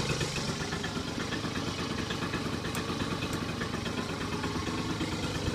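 A Speedfight moped engine idles steadily after an electric start, a close, continuous buzzing putter with a fine rapid vibration and no talking.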